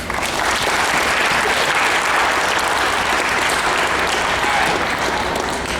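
Loud, dense applause from a large crowd, steady and sustained with no letup.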